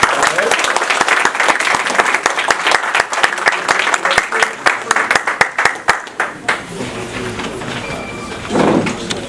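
A lecture audience gives a big round of applause, dense loud clapping that thins into scattered claps and then dies out, followed by a brief murmur of voices.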